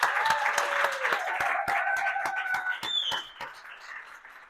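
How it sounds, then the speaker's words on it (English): Applause from a keynote audience at a wild horse and wildlife event, broken claps rising over a tonal whistling or feedback sound before trailing off, fairly loud and close. "we need a massive round of applause for the one person who made this possible"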